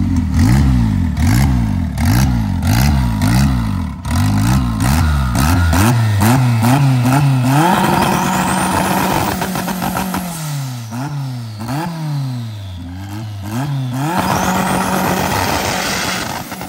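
A powerful turbocharged Ford F-250 truck engine revs repeatedly in rhythmic bursts, then climbs and drops in pitch with several loud throttle blips, close and dominant.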